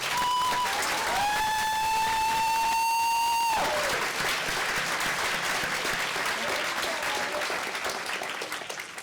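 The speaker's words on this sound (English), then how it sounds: "Can we give Ralph a round of applause, please?" An audience applauds for artist Ralph Steadman, a sustained electronic-sounding tone with high overtones ringing for the first few seconds before dense, steady clapping takes over and continues loudly to the end.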